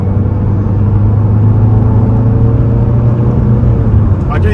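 A Volvo V40 Cross Country D3 diesel pulls away off a roundabout, its engine droning steadily and loudly from inside the cabin as it gathers speed, with a constant low hum of road and motor noise.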